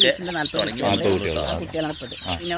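Chickens cluck close by on a small farm in short, repeated bursts, a few soft clucks overlapping one another.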